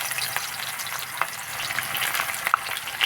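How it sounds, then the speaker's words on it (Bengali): Chopped onion frying in oil for a Bengali-style chicken curry: a dense, steady sizzle with occasional small pops and stirring scrapes, close and fairly loud, no voices. "পেঁয়াজ কুচি দিয়ে দিলাম"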